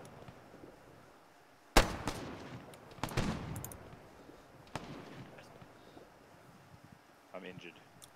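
Gunshots from shotguns in the military shooter game Arma 3: a loud sharp blast, then a cluster of shots about a second later and another report, with smaller pops and faint game noise between them.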